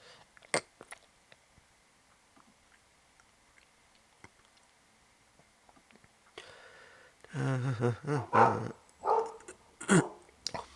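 A pet dog barks several times in close succession near the end, loud and fairly close, after a stretch of quiet room noise with faint ticking and one early sharp sound.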